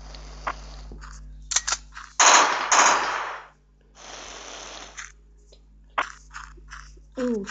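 A shotgun fires in the Mini Militia video game in loud, sharp bursts, with several separate blasts and some brief chatter between them.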